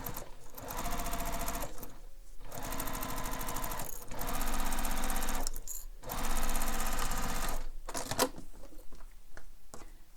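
A sewing machine stitches a seam on an Oriana Bowler bag in several steady bursts of rapid clatter, separated by brief pauses, close and fairly loud.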